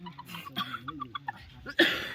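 A sick person's single sharp cough bursts out near the end, after a stretch of muffled talking and throaty vocal sounds.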